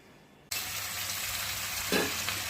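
Bitter gourd and potato fry in a home kitchen, a brief quiet giving way abruptly to a loud, steady, close hiss of sizzling oil that carries on without any talk.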